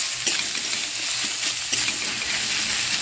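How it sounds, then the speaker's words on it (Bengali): Thinly sliced onions fry in hot oil with a loud, even, close sizzling hiss, faint stirring taps breaking through now and then. "ভেজে ভেজে নিচ্ছি।"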